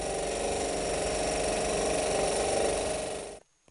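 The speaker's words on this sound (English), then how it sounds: "Now my little scroll saw here can easily stand up to this brass." A small scroll saw cutting through brass stock makes a steady, fast buzzing chatter that runs loud and even for about three seconds before the blade stops abruptly.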